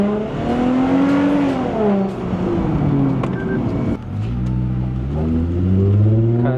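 A Lexus IS250 XE20 facelift revs hard under acceleration, its engine note climbing in pitch, dipping at a gear change around the middle, then rising again loud and close.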